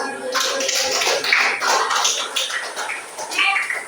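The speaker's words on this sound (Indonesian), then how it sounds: "Aplaus dulu untuk kelompok 1" A classroom group gets a round of applause after finishing its presentation: dense, steady clapping from many hands lasting about four seconds, close and fairly loud.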